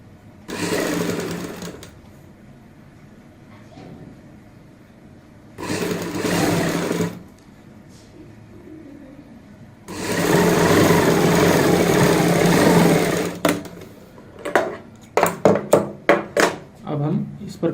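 A sewing machine stitches a sleeve in bursts. Two short runs are followed by a longer steady whirring stretch, then a string of quick start-stop stitches, all loud and close.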